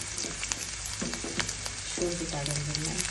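Garlic and ginger tempering fries in a pan with curry leaves, a dense close sizzle throughout, with brief stirring scrapes and faint clinks over it.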